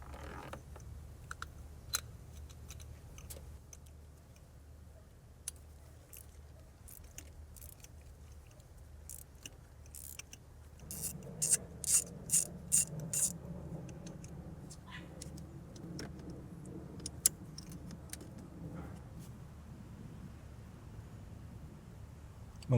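A ratchet with a magnetic 14mm spark plug socket on an extension working a spark plug out of a 2014-2019 Toyota Corolla engine, giving rapid clicking bursts and faint metallic ticks, close and quiet against a low steady hum.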